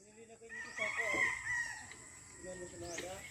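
A brood rooster crows nearby, one drawn-out cock-a-doodle-doo rising and falling over a few seconds, with faint outdoor background noise around it.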